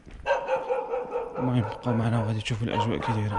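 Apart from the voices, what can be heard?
dog barking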